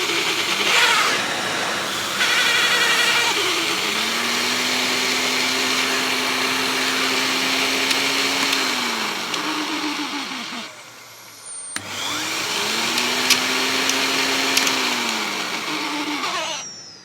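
A Vortech Force 3 vacuum cleaner fitted with a turbo brush, a loud steady motor whine with a rising hum from the spinning brush that cuts out briefly near the end before starting up again.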